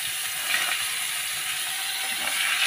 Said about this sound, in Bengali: আর বেগুন ভাজছি